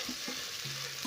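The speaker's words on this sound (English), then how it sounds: "onions. So I'm going to saute this till they start turning translucent." Onions sauteing in a pot for a one-pot rice dish, giving a soft, steady sizzle with a few faint clinks of stirring, fairly quiet and without any talk.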